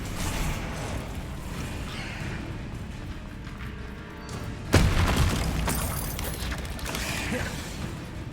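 A Confringo fire spell explodes mid-battle in Hogwarts Legacy: a sudden, loud booming burst cuts in about halfway through and rings out over a steady bed of game music and ambient rumble.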